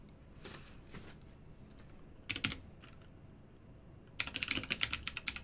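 Bursts of clicky typing on a computer keyboard at a terminal, a few short clusters of keystrokes with pauses between, ending in a quicker, louder run of taps.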